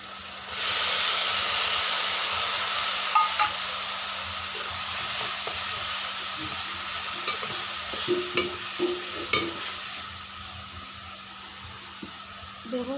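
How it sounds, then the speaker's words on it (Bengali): Ginger, garlic and green chili paste fries in a pan with a steady soft hiss and sizzle, broken by a few faint scrapes and clinks from stirring. "পেস্টটা একটু ভাজা ভাজা করে নেব।"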